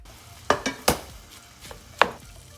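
Ground meat is added to a pan of celery and stirred, giving several sharp utensil clacks and scrapes over a soft background sizzle, with no talking.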